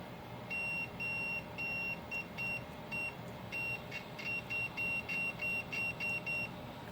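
Continuity beeper of an Aneng AN8004 multimeter, a thin high-pitched electronic tone sounding in a string of short and longer beeps as the probes make and break contact, with faint background noise.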